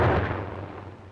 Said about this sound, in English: Being constructed to deliver a maximum blast effect, its explosion will stun rather than cause injury by fragmentation.